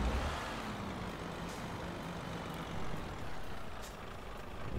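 DAF XF 95 truck driving in Euro Truck Simulator 2, a steady loud engine drone with rolling road noise, continuous and unchanging, no talk.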